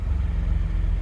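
A 1995 Toyota Supra JZA80 RZ-S with six-speed manual gearbox and turbo timer runs steadily, its engine giving a continuous low, dense rumble close by with no pauses.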